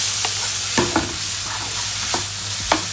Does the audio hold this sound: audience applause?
no